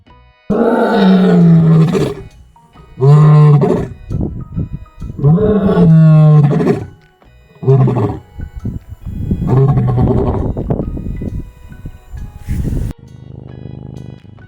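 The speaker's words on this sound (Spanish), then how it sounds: "El rugido de un león se puede escuchar hasta a 8 kilómetros de distancia." A lion roars in a long series of deep, throaty bellows, loud and close, trailing off into shorter grunts at the end.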